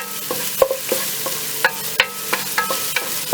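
Garlic sizzles and fries in a pan for a Filipino banana blossom dish. A utensil stirs and scrapes it in sharp, irregular clicks above a steady hiss, close and fairly loud.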